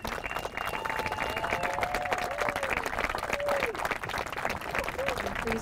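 Wedding guests clap for the newlyweds as they kiss, a dense sustained round of applause mixed with cheering and crowd babble, with bright whistles or whoops rising over the clapping throughout.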